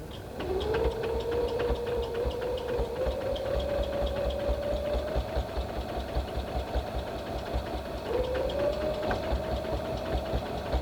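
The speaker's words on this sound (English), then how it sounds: "I can go back in with a zigzag stitch to kind of secure everything" A sewing machine runs a steady zigzag stitch across a pickleball paddle cover, humming continuously with a fast, even mechanical pulse and a rising whine as it speeds up, pausing briefly and then starting again.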